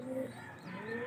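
A stray pigeon coos softly in a short, low, rolling call, fairly faint against a quiet background.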